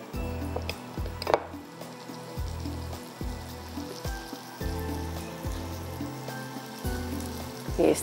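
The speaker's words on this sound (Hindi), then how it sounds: "इस पर हम बटर के साथ सेकेंगे" Chicken drumsticks fry in butter in a pan, giving a soft, continuous sizzle with crackling pops under steady background music.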